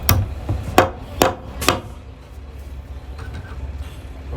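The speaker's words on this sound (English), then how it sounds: "Oh, tell me you got a hammer like you mean it." Sharp hammer strikes drive a screw into place during a store repair job: four loud, close blows in quick succession, followed by quieter shuffling and faint handling noise.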